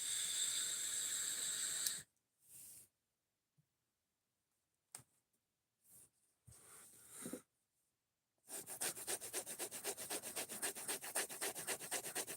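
Sandpaper rubbed over wood, worked through successive grits: a dense, raspy scrubbing in steady back-and-forth strokes, loud at the start and again at the end, with a quiet gap of scattered faint scrapes and knocks between.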